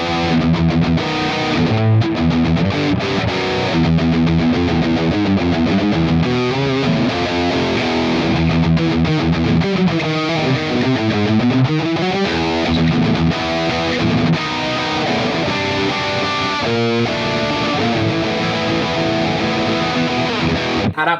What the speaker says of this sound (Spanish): tocando flojito, la distorsión tiene otra respuesta